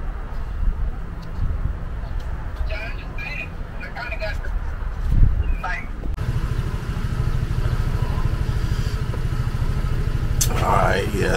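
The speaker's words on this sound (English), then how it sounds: "We warming up the bike though." A motorcycle warming up, with a steady low engine idle rumbling close by in the second half, after an outdoor stretch with birds cooing and people talking.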